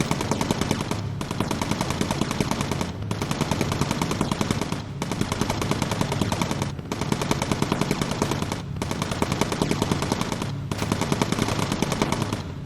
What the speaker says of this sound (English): I don't know what the ball turret's shooting at.